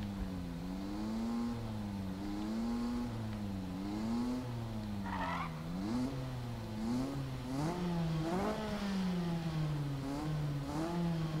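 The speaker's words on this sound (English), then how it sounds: "my car sounds hella dope" A car engine in a racing video game revs up and down repeatedly, its pitch sweeping through rising and falling whines with a few sharper bursts, loud and close with no talk over it.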